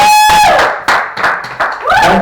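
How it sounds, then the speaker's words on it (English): An audience at a Brighton Fringe comedy show claps in sharp irregular bursts, with a high whistle at the start and rising whoops of cheering toward the end, loud and close. "You're going to start clapping and cheering on the front sofa."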